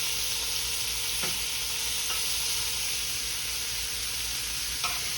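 Shrimp sizzle on a grill as they take on grill marks: a steady, close frying hiss with a few faint clicks and pops, and no talking.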